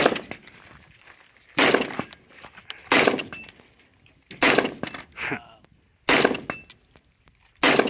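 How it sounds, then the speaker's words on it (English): Rifle shots fired with Murom small rifle magnum primers at an outdoor range, five sharp loud cracks spaced about one to two seconds apart, each with a short ringing tail, and a voice speaks between them. "Mitch is shooting the Jackal."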